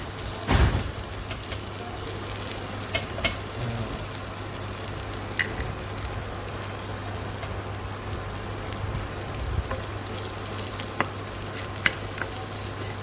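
Green chilies sizzle and crackle steadily in a hot pan, a dense continuous frying hiss with occasional stirring clicks and pops, no talking.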